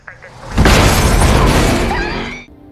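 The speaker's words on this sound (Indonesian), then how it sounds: "Kali ini Tri dibunuh dengan mobil tersebut diledakan oleh si pembunuh." A car blows up in a film scene: a sudden loud, roaring explosion with shattering debris sustains for about two seconds, then cuts off abruptly.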